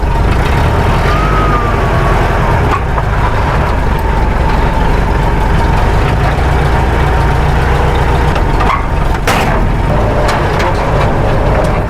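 An air-cooled V4 engine running on LPG rumbles steadily and loudly at idle throughout, a continuous low throbbing drone with a few faint clicks and knocks on top.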